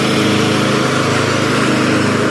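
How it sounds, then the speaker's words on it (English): A Cub Cadet lawn mower engine runs close by, a loud steady drone with a fast even rhythm and no pauses. "that's the Cub Cadet mower, I think, yeah. Definitely sounds like a Cub Cadet"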